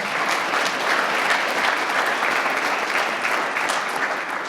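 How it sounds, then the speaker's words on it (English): A large audience at a community health breakfast event applauds steadily, a dense wash of clapping hands that holds at an even, loud level throughout. "Can you give them all one more big round of applause as well?"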